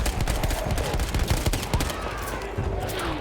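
Rapid gunfire from a weapon in the video game Battlefield 1, a dense burst of sharp cracking shots over about three seconds with a low rumble beneath.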